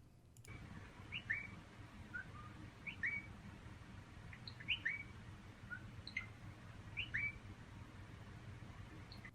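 A trained parakeet whistles short electronic-style chirps and blips mimicking Nintendo Switch home screen menu sounds, several brief bright calls spaced over a steady low hum, fairly faint.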